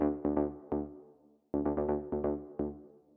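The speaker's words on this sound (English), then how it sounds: "So without the echo layer, it sounds like this." Techno synth lead played dry with its echo layer removed: short, punchy buzzing notes in two clipped phrases split by a brief gap, each note cutting off quickly instead of trailing away.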